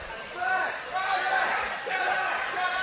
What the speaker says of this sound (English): He's getting the Strat chant.